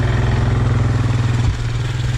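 A Yamaha Kodiak 700 ATV rides past close by, its engine a loud, steady low drone that shifts in pitch partway through as it passes.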